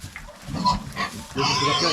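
Pigs, including sows and young piglets, grunt and squeal on a small farm, a run of close, busy grunts that turns into louder, sustained squealing over the last half.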